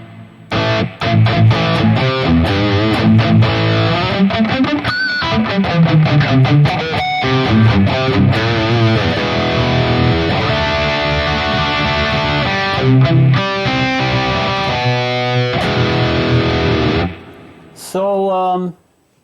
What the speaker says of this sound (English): Tend to use a dark delay, dark reverb.